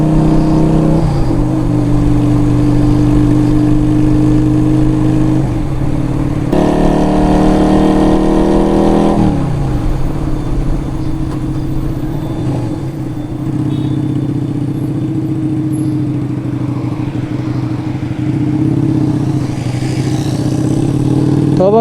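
Motorcycles at a bikers' night gathering in Peshawar rumble loudly and continuously at idle, with a surge of revving partway through before settling back into a steady close engine drone.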